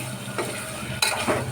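Carrots and potatoes sizzle in hot oil in a pan, a steady close frying hiss broken by a few scraping stirs of a spoon.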